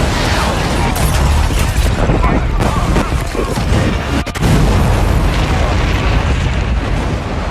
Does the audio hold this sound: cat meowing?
no